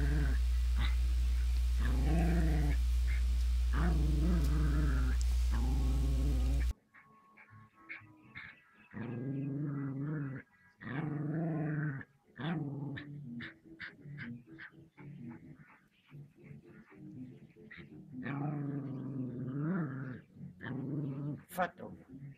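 A small Russell Terrier growls in close, steady bursts, with short whimpers and yips between them and people talking over much of the commotion.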